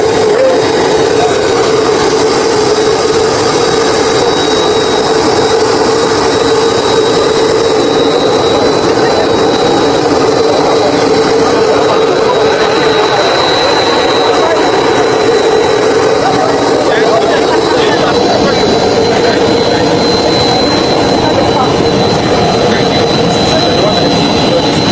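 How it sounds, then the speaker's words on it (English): A jet airliner's engines roar steadily as the plane touches down in Abuja, a loud continuous whine and rumble that fills the whole stretch without pause. "His plane touched down in Abuja."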